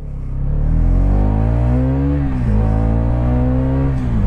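A 2023 Hero Karizma XMR motorcycle accelerating hard during a 0–100 km/h speed test, a loud, close engine roar rising in pitch through the gears, with a brief dip at a shift, no talk.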